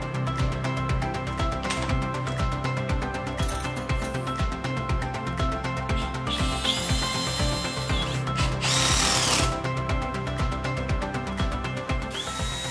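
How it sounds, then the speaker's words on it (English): A power drill whirs steadily up close, drilling holes in a glass wall panel frame, with rhythmic ratcheting clicks and short bursts of higher-pitched grinding as it bites into material. "you are going to drill three holes at the bottom, middle, and top of the fixed panel"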